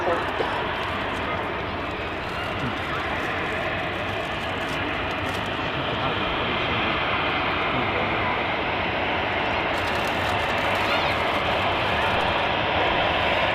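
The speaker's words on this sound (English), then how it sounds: "Ryanair 737 on the taxi out." A Ryanair Boeing 737-800 airliner taxis out at Manchester Airport, its engines producing a steady broadband roar that holds at a fairly loud, even level throughout, with a slight swell as it passes.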